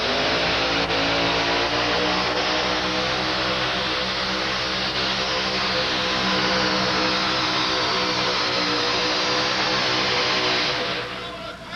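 Supercharged 572 engine of the Magnum Jr. two-wheel-drive monster truck driven by Butch Schultz at a 1987 USHRA event in Pittsburgh, roaring loud and sustained with a steady droning tone throughout, then easing off at the very end.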